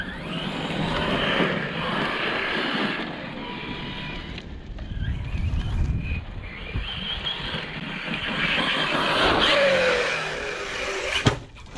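A Team Corally Sketer 4S RC car running on 6S power drives around an outdoor canyon, its electric motor whining and surging as it accelerates and passes near and far.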